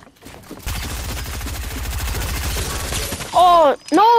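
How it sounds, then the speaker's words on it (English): Rapid automatic gunfire in the video game Fortnite, a sustained loud fusillade of fast shots lasting several seconds, followed by a louder burst with a tonal ringing effect. "Somebody's shooting us. Somebody's shooting."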